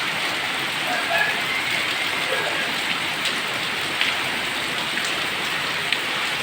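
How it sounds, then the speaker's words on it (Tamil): Steady, heavy rain pours down over Chennai during a storm, a dense continuous hiss of drops on surfaces with a few brief louder taps, fairly close and without talk. "இந்த வருஷம் மழை இல்லை சென்னை தப்பிச்சிருச்சுன்னு நினச்சோம் ஆனால் விடாத மழை ஊற்றி"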